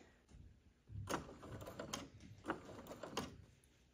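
A sewing machine stitches a rolled hem in short bursts, a quiet rattling mechanical whir rising and pausing a few times, close and faint.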